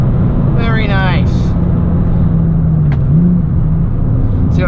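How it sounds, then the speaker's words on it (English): A VW Golf GTI VR6 engine rumbling low and loud from inside the car during a heel-toe downshift, with a small rev blip partway through and a brief voice early on. "I did that heel toe, but I didn't bury my foot in the pedal enough, so the sluggish little RPMs didn't want to go up"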